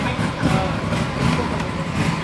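A twin-cylinder Aprilia RS 457 motorcycle engine idles steadily at close range, a low, even rumble with a slight pulsing throb throughout.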